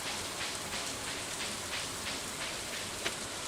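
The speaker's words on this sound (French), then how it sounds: "aujourd'hui c'est de l'orage" Steady stormy rain from the video game Stardew Valley, a continuous hiss of drops pattering on a surface with faint rhythmic gusts, even and unbroken from start to finish, with no voices.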